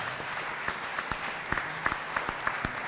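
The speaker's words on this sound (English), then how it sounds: "please give them another round of applause" Audience at a collegiate forum panel discussion applauds the panel, with sharp scattered claps standing out over a lighter wash of clapping and faint voices.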